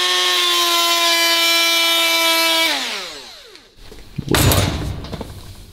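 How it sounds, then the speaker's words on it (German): A flap disc sander smoothing an oversized cylinder head for an Abarth gives a loud, steady tonal whine, then spins down, followed by a short harsh burst of abrasive grinding. "bereits abgeschliffenen Fächerschleifer, den wir da nochmal ein bisschen durchziehen zum Glätten"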